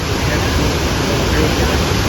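Jamjir waterfall in Gujarat roars as a dense, unbroken rush of falling water, loud and close, with voices faintly talking beneath it.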